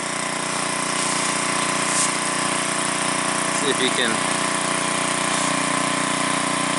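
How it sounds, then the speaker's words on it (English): An engine-driven trash pump drains a swampy pit, its small motor running in a steady, loud drone from start to finish while someone speaks briefly over it. "the water flow coming in just isn't as quick as the pump can pump it out"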